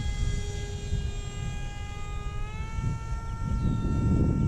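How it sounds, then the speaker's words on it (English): A model Russian Sukhoi fighter plane with a pusher propeller whines loudly and steadily, its high buzzing engine tone shifting in pitch as it flies nearby, with wind noise underneath. "I'm flying the Russian Sukhoi fighter. It's a pusher prop, very loud."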